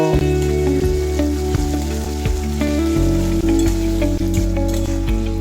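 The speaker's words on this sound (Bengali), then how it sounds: "পরিমাণ মতো আদা বাটা আর ঝালের জন্য চারটে কাঁচা লঙ্কা দিয়ে খুব ভালোভাবে ভেজে নেব" Ginger paste and four green chillies frying in a pan, a loud, dense continuous sizzle with scattered crackles and pops, close up and without talk.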